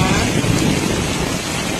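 Steady rain pours down in a continuous broadband hiss with no pauses, fairly loud and close throughout.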